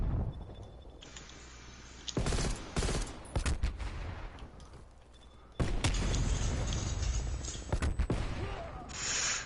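Bursts of video game gunfire crackle in rapid automatic volleys with sharp single shots between, loud and close, broken by brief quieter gaps before a long sustained barrage.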